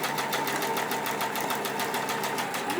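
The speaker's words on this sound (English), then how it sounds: "now I'll grab another scrap and stitch through it" A sewing machine stitching scraps of fabric for a sawtooth patchwork block runs at a steady, rapid needle rhythm, a continuous close whirring hum with no talk over it.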